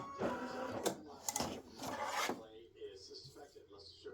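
An embroidery machine stitches a ribbon design onto a gift tag, producing quick mechanical whirring and tapping bursts close by, followed by softer rustling, with a voice talking quietly.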